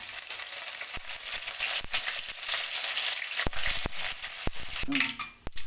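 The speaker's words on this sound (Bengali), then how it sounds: "আমি ফোড়নে দিয়ে দেব কারি পাতা" Curry leaves and black mustard seeds fry in hot tempering oil for flattened-rice pulao, a steady sizzle broken by sharp crackles and pops, with occasional clinks of a utensil against the pan.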